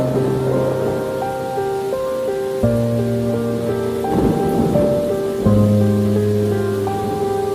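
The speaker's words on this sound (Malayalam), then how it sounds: "ദൈവമേ, മഴയാണല്ലോ." Heavy monsoon rain with rumbling thunder near the Mullaperiyar dam in Kerala, a steady loud wash of downpour running the whole time beneath sustained background music.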